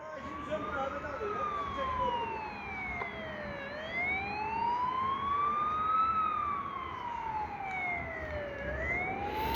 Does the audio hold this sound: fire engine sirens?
yes